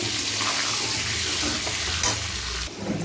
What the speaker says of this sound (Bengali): আলুগুলো ভালো করে লাল লাল করে একটু ভেজে নেব